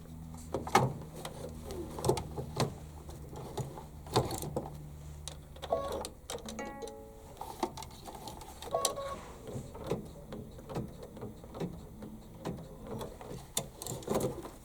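An embroidery machine stitching to tack down fabric, giving a soft, steady mechanical whir with rhythmic needle clicks and occasional clunks of the hoop moving, close and fairly quiet with no talking.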